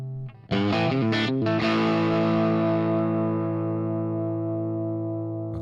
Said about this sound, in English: Sorry, reverb is too high now.